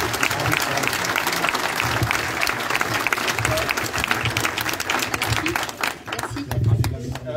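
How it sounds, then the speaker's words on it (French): Audience applause at an evening rally and debate on the health pass in Montbrison, France: steady, dense clapping from a crowd throughout, with voices and cheers mixed in and a slight dip near the end. "on peut les applaudir ce soir"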